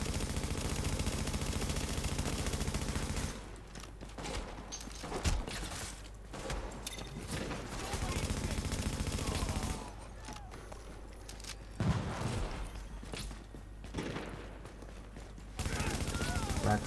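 Gunfire in The Division video game during an attack on a fortification, dense bursts of rapid shots alternating with steady loud game noise, with mechanical clatter between volleys.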